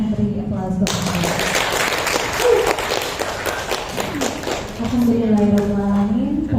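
An audience of teachers and staff at a school event at SMPN 3 Jember claps in steady, dense applause for several seconds, with an amplified voice speaking before and after it.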